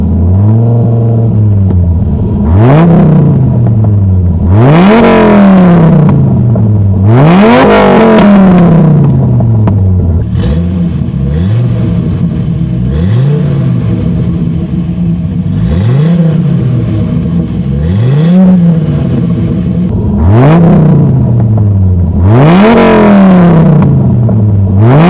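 A Dodge Viper with a Belanger exhaust revs hard in repeated bursts, each blip rising sharply then falling back to idle, loud and close, about nine revs over the stretch with no talking.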